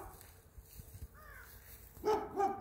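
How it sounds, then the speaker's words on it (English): A neighbor's dog barks a couple of times in the distance, faint at first and then louder near the end, over a quiet outdoor background. "it's a neighbor's dog"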